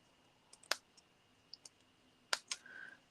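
Scissors snipping into paper card for a handmade stamped Christmas card, a handful of sharp, close clicks and snips in an irregular rhythm over quiet background, no talking.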